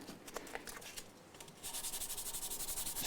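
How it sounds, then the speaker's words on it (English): Fine 400-grit sandpaper rubs along the edge of the nut on a Martin HD28 acoustic guitar, short scratchy strokes at first, then a quick, steady run of close, bright rasping passes. "I'll do a bit of 400 grit here, a little bit of sanding on the edge of the nut"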